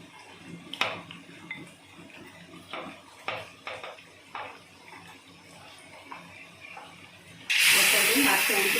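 Fish frying in hot oil with masala for an Odia pakhala thali meal; a loud, sustained sizzling hiss bursts in near the end, after a stretch of faint kitchen clatter and utensil clinks.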